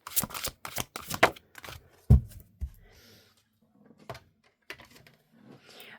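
Crisp riffling and snapping of tarot cards being shuffled close up, in quick bursts that thin out into softer, sparse card slides.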